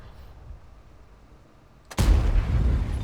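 A tank cannon fires in World of Tanks, as a single loud, sharp blast about two seconds in that leaves a dense, sustained roar after a quieter low rumble.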